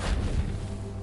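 A Confringo spell blast bursts in Hogwarts Legacy, a single dense booming whoosh that swells at once and decays over about a second, heard alone.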